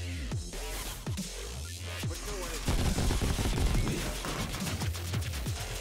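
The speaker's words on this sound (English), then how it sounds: "a man dual-wielding Thompson submachine guns" Bursts of dual-wielded Thompson submachine gun fire in the Madness: Project Nexus video game, rapid crackling volleys with heavy low thumps, densest in the middle stretch, under a constant game background.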